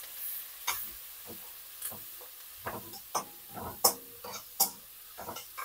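Onions, green chillies and curry leaves fry in a pan for a dried fish curry, a soft steady sizzle broken by scattered sharp crackles and pops from the oil, close and without talk.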